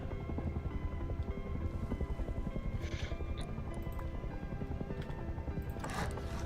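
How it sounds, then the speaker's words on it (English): A helicopter hovers directly overhead, its rotor thumping in a fast, steady pulse that stays loud and close throughout, with a few brief higher-pitched noises over it. "Oh my god, the helicopter's above me."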